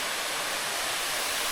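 Waterfall near a hidden village in Colombia, a dense, constant rushing roar of falling water filling the scene with no other sounds.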